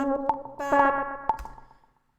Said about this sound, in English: that is our delay. In this case it's called an echo